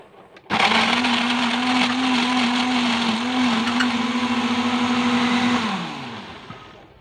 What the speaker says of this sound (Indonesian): Lalu blender dengan kecepatan sedang ya.